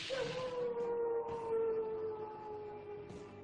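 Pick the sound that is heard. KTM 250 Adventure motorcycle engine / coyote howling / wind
coyote howling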